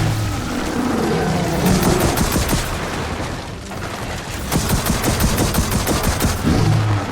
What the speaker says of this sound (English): I think it's safe to say these industrial staple guns work